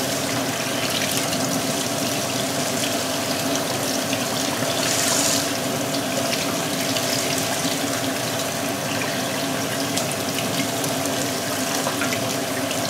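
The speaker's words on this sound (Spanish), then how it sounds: "estoy colando el arroz" Water pouring steadily into a sink as cooked rice is strained through a colander, a continuous close rush with no talking.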